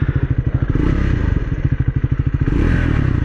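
A single-cylinder 398cc motorcycle engine thumps in a steady, rapid pulsing beat heard up close, with a slight rise in pace near the end and no talking.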